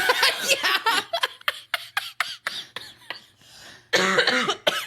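A burst of harsh coughs in a quick irregular series, with a few short laughing sounds mixed in, close to the microphone.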